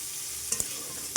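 Crushed garlic and green chillies fry in a pan with a soft, steady sizzle, punctuated by a couple of sharp scrapes or taps from a stirring utensil.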